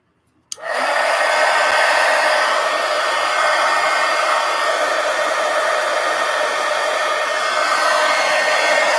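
A hair dryer switches on with a sharp click and roars steadily while drying wet paint on a mixed-media book page, loud and close, an unbroken airy hum with no speech.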